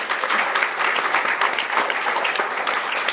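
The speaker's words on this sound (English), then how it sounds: "let's give them a round of applause" An audience at a 2015 awards gala bursts into applause, a thick, sustained roar of clapping hands that stays loud and steady from start to finish.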